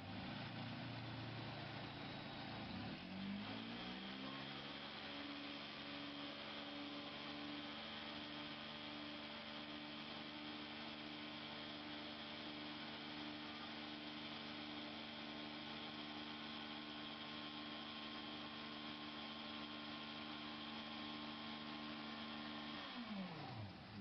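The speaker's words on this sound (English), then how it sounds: "Let me give you an idea of how the wand works." A carpet cleaning extraction wand on a rotary machine runs with a steady, loud droning whine that starts with a rising pitch sweep and holds constant before winding down at the end.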